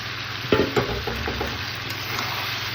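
Fried potatoes tumble into a pan of cooked-down tomatoes, causing a short burst of sizzling and spoon scraping, after which a steady sizzle continues nearby.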